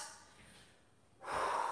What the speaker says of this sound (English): Take those deep breaths.